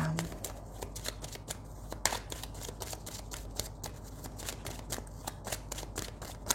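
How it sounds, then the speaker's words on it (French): Oracle deck cards being shuffled by hand, a steady run of soft, rapid riffling clicks close up with a brief low hum at the start and no talking. "Je prends bien le temps de les mélanger."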